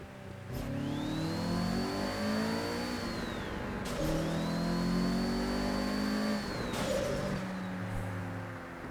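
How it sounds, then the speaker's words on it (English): A JDM car in a racing video game spooling its turbo with a rising whistle, then releasing a sharp blow-off hiss, repeated three times over a steady engine drone with gear-like revving. "Nice little turbo spool into the blow off."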